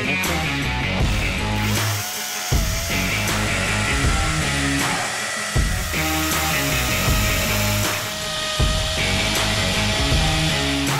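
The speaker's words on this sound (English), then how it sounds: "go ahead and punch through the concrete" A power drill grinds continuously into a concrete patio, loud and close, with repeated pulsing hammer bursts as it bites through the concrete.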